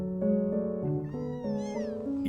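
Cat meowing in the video game Before Your Eyes, a run of drawn-out, tonal meows with rising and falling pitch, close and clear, one after another across the moment with no talking.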